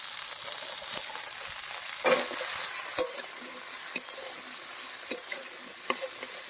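Water lily stems fry in hot oil with cooked spices, a continuous close sizzle broken by several sharp clinks and scrapes of stirring.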